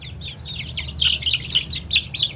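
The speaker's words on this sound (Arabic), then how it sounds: "هاي دجاجة." Chickens and a rooster cluck and chirp in a repeated, pulsing pattern close by, over a low steady background hum, with no talking.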